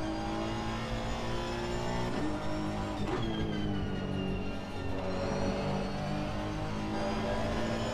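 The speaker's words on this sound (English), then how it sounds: "Lovely looking shots then as the car slides through these corners." A race car slides through track corners during a bronze-class race, its engine note droning steadily and loud for the whole stretch, with rising and falling harmonics as the car accelerates and backs off.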